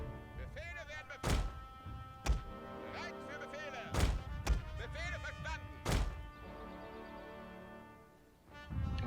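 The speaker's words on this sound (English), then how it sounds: "And now our cannons are returning fire on the French howitzers" Howitzers and 12-pounder cannons fire in a Franco-Prussian War battle in the Total War video game, with five heavy booming shots spaced a second or two apart over a rumbling battlefield bed while someone talks.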